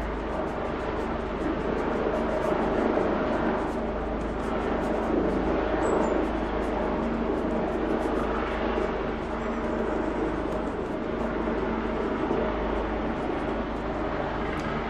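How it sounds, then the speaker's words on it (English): A helicopter flying outside a room gives off a steady, broad droning rumble that holds evenly throughout, muffled and continuous, with no voices. "There's a helicopter outside"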